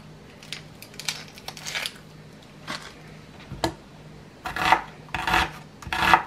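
A knife chopping onion for bistec ranchero: irregular close scraping and cutting strokes, sparse at first, then louder and denser in clustered bursts toward the end.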